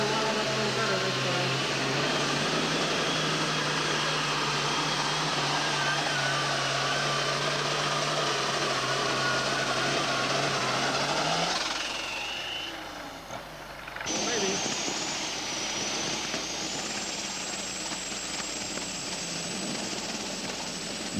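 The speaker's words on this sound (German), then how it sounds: "Wie eine Flugzeugturbine hört sich dieser sehr hochdrehende Sechszylinder-Perkins-Motor an." A very high-revving six-cylinder Perkins engine screams with a turbine-like whine on a pulling tractor at a 1987 NTPA tractor pull in the USA, loud and sustained, dropping briefly around the middle before rising again, with an announcer talking throughout.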